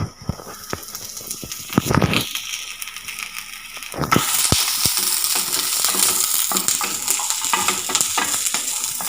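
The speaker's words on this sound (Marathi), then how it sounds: "आलं लसूण भाजून घ्यायचं आहे." Ginger and garlic roast in a hot pan, stirred with scraping strokes and sharp clacks of the spoon, then a steady loud sizzle takes over as the frying intensifies, close up and with no talking.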